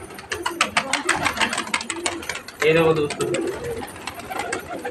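Crested pigeons coo in a series of soft, rhythmic calls up close, with one louder, fuller coo partway through, while someone talks over them.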